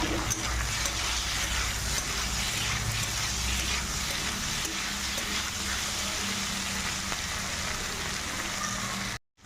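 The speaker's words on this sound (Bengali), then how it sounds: "মশলাকে একটু কষিয়ে নেব।" Spice paste and onion sizzle steadily in hot oil in a pan, a dense, continuous frying crackle with stirring scrapes throughout, close and fairly loud, ending abruptly.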